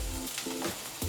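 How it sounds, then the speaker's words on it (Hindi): Beef seekh kababs frying in hot oil, a short burst of close sizzling with a few soft scrapes and no voices. "ऑयल जब गर्म हो जाए तो हम इनको ऐसे फ्राई कर लेंगे"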